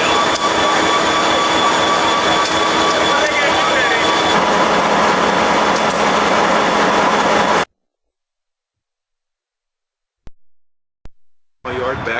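An SW1 switcher locomotive and rail cars roll through a yard, a loud steady rumble with wheel squeal and a whining tone for several seconds before cutting to silence, then brief clanks.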